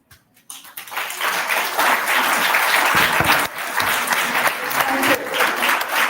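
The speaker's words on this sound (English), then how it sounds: "let us raise an appreciation of applause from all the participating teams" Steady, loud audience applause fills a school hall at a primary schools quiz final in St. Ann, rising after a brief quiet start and holding dense clapping throughout.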